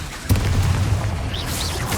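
Spell explosions in a Hogwarts video game, Confringo and Bombarda blasts: a sharp boom lands early, then rumbling low impact noise and whooshing magical effects carry on, loud and close.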